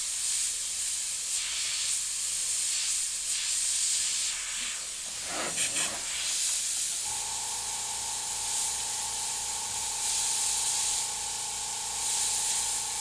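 Airbrush spraying green paint during a tiki painting session, giving a steady close hiss that cuts out briefly midway, followed by a tonal hum alongside the continued spray.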